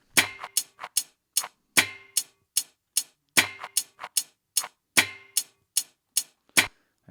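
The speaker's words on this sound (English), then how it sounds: "This might have been like a dice in a cup." A homemade shaker-style percussion sample, like dice rattled in a cup, made from kitchen sounds: sharp dry clicky hits in a steady looping rhythm, close and alone.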